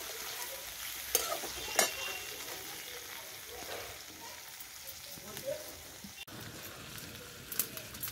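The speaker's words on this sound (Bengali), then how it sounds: "দেখো বন্ধুরা, ফুলকপি ভাজা হচ্ছে।" Cauliflower frying in oil over a wood-fired stove in a breezy outdoor setting, a soft continuous sizzle with occasional stirring clicks and scrapes.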